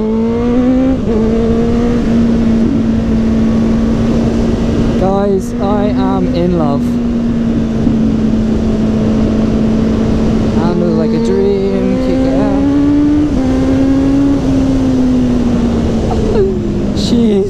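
A Kawasaki Z800e four-cylinder motorcycle engine hums loudly and close throughout, its pitch rising and falling as the rider accelerates, with wind rush mixed in.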